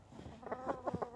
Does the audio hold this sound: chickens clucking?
yes